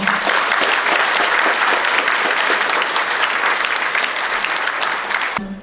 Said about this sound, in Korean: 뜨거운 감동의 박수 부탁드립니다